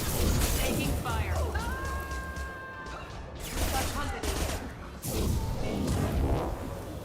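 A chaotic firefight in Mass Effect 2 with rapid bursts of gunfire, crashing impacts and shattering effects layered over a dense, continuous game soundscape with brief tonal cues.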